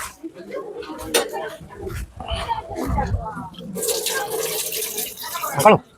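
Running tap water for hand washing splashes steadily for a couple of seconds near the end, close by, with people talking before and over it.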